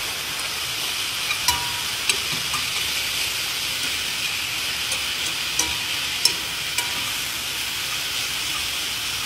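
Chicken with garlic, paprika, black pepper, cumin and coriander cooks in a pan under a steady hiss, while a utensil scrapes and taps the pan in sparse, sharp clicks.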